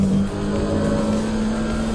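GT3 race car engines at Silverstone in Assetto Corsa Competizione, a loud, steady growling drone with a sustained low tone, continuous throughout without speech.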